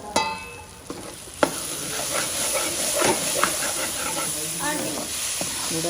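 Black chickpea masala sizzles loudly in a hot pan with tomato while a ladle stirs and scrapes through it, a constant bright frying hiss broken by a few clinks of the spoon against the pan.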